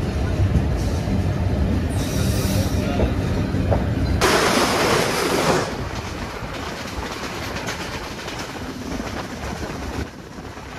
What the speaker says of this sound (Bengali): বঙ্গবন্ধু সেতু ওয়েস্ট স্টেশনে কিছুক্ষণ দাঁড়ানোর পর ট্রেনটি সেখান থেকে জয়দেবপুরের উদ্দেশ্যে রওনা দিয়ে দেয়।